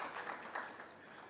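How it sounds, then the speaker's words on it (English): An audience at a panel discussion on digitally enabled lifecycle solutions claps briefly, a short burst of scattered applause that tapers off quickly. "I think should welcome her with a round of applause"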